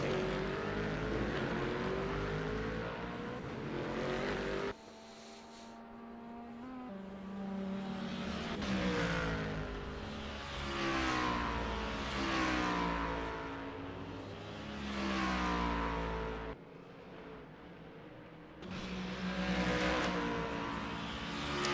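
A simulated GT race car on the Sebring circuit during an endurance sim race, its engine climbing steadily in pitch through each gear before sharp upshifts, repeating several times, loud and close with no voices.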